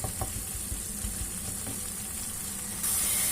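Mushrooms in a pan sizzle and bubble as their released water boils off, a dense steady hiss with small popping bursts early on and a sharper, louder hiss rising near the end.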